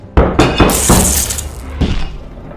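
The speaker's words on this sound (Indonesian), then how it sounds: "melemparkan boneka Brahms yang mengakibatkan hancur berkeping-keping" A porcelain doll is thrown and smashes to pieces, a loud shattering crash followed by scattering shards and a second smaller impact, heard alone.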